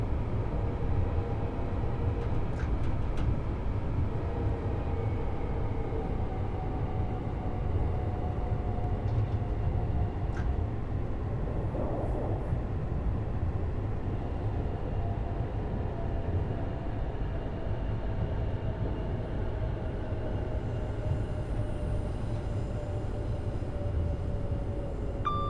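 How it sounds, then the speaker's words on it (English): A Brighton mainline train runs in the video game Train Sim World 5, giving a steady, loud, even rumble of wheels and traction that holds unbroken for the whole stretch, with no voices. "There's a Brighton mainline train just gone through."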